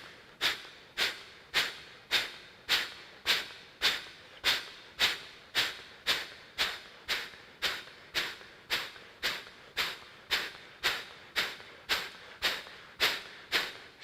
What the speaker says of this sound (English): Now, I'm going to exhale rapidly